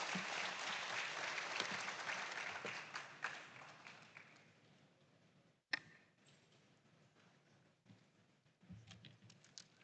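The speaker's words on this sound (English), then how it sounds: "Please, a round of applause for Faris." Applause at a school farm awards grand final, a brisk burst of clapping that tapers off within a few seconds, followed by quiet room noise with scattered faint claps and taps.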